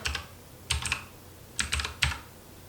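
A computer keyboard being typed on into a search bar, with a few short clusters of crisp, close key clicks separated by brief pauses and no talk.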